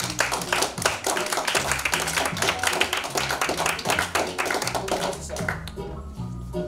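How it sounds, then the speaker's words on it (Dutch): An audience applauds a guest called up at a talk event, dense rapid hand clapping sustained for several seconds before thinning out at the end. "mag ik alsjeblieft een heel hard applaus voor Kees Glasda van Loop."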